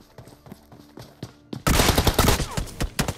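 Gunfire in a battle royale video game: scattered single shots and clicks at first, then a dense, loud burst of rapid automatic fire with repeated sharp cracks layered over each other.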